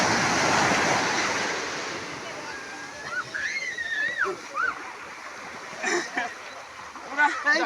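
Water falls and splashes in a steady rushing wash that fades after a few seconds, while nearby voices call out and chatter over it.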